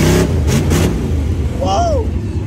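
The Grave Digger monster truck engine revs in first gear, a loud, close, steady roar with rising gear pulls and sharp bursts, while people talk excitedly over it.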